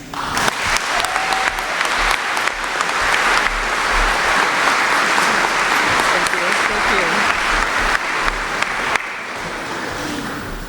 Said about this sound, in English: ask that you all join me in giving her a round of applause as she comes forward to welcome you today